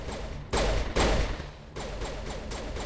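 Video game gunfire rings out in several loud, sharp volleys, two big bursts early and a steadier run of shots after, with a constant background bed beneath and no talking.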